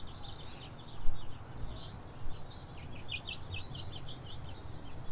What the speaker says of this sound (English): Now some regular birds are coming. Finches.